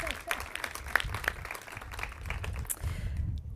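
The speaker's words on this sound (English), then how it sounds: "Round of applause for her as well" Audience applause at a women-in-journalism awards luncheon, a steady patter of many hands clapping in a room, with voices murmuring and talking underneath throughout.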